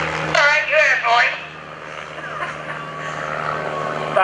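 An Extreme Decathlon aerobatic airplane flies at an airshow, its propeller engine droning steadily in the distance beneath a loud announcer's voice.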